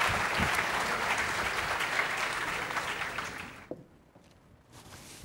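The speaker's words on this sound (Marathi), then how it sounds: "प्लीज टाळ्यांचा गडगडाट कमी होऊ देऊ नका" Audience applause at a corporate awards event honouring a pharmaceutical team, loud and sustained clapping from a crowd for several seconds before abruptly dropping to near silence, with a few scattered claps at the end.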